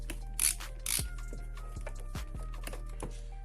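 Small screws being driven with a hand screwdriver during a teardown of a JBL Flip 5 speaker: a few quick ratcheting clicks and light mechanical scrapes, close and fairly quiet, with a steady low hum underneath and no voices.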